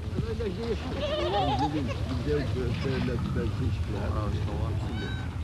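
A desert herd of goats bleats in a string of wavering calls over a constant rumble, with a voice speaking alongside.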